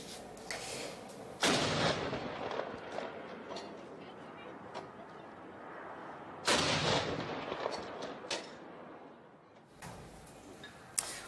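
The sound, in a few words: 21-gun salute artillery fire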